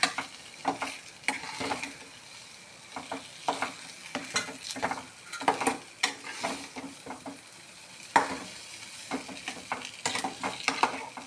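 Thick kali dough made from parboiled idli rice is worked in a pan, producing repeated scraping and thudding stirring strokes in an uneven rhythm, moderately loud with no talk.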